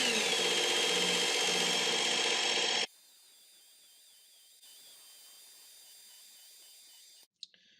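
Work Sharp Ken Onion Edition belt knife sharpener running at medium speed with a blade on the belt: a loud, steady whirring grind for about three seconds, then it drops to a faint, thin hum, with no talking.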